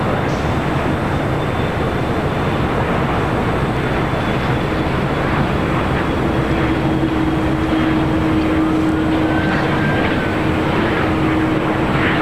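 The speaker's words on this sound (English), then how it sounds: "777-300ER now pushing back from the gates of Tom Bradley" A Boeing 777-300ER pushing back from the Tom Bradley gates at LAX, heard as a steady broad jet roar with a faint sustained engine whine, continuous and moderately loud from start to finish.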